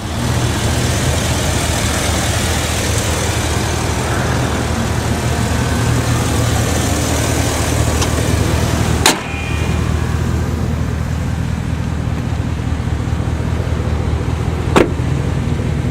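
A truck engine with a cold air intake idles steadily with a low, constant rumble, interrupted briefly by a sharp click partway through, then continuing.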